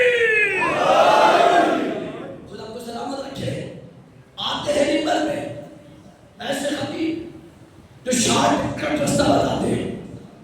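A crowd in an imam bargah in Abbottabad during a Muharram majlis shouts a slogan in loud, massed bursts, several waves of voices rising together and rolling out between short pauses.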